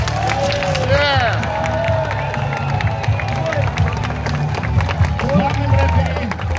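Dense crowd at a fight in Bulgaria, a 2021 bout with Vitaly Laletin and Krasimir Kostadinov, roaring, cheering and clapping continuously throughout, loud and close, with shouted voices mixed in.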